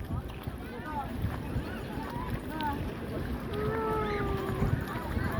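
A boat moves across water with a steady low rumble and splashing, wind buffeting the mic, while people talk nearby.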